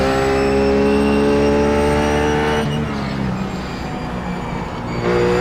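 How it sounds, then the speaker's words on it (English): A RUF race car engine at Lime Rock screams at full throttle, a loud steady harmonic wail that drops sharply at a gear change, then builds again as it pulls hard out of a corner. "Again planting the throttle."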